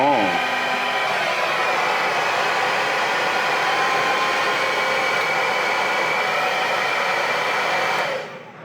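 A hair dryer running off a camper van power inverter blows with a steady, loud whooshing roar for several seconds, then cuts off near the end.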